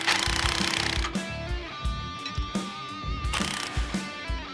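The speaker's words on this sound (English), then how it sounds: "With everything loosely attached, we can start tightening all the castle nuts." Ratcheting clicks ring out as castle nuts are tightened on the steering linkage of a restored square-body tow truck, with rapid mechanical bursts near the start and at intervals, over steady background music.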